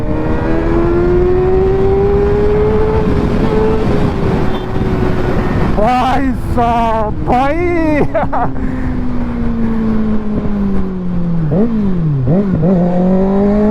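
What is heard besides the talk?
Kawasaki Ninja ZX6R motorcycle engine accelerating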